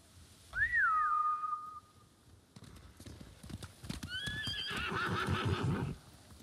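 In the Ghost of Tsushima video game, a horse whinnies loudly, then hooves clip-clop and gallop close by as a second shrill neigh rises over the pounding steps.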